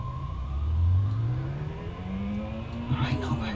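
Ferrari engine in the Amiga racing game Test Drive II, a synthesized revving tone that climbs in pitch and holds high, with a short choppy burst near the end and a voice talking over it.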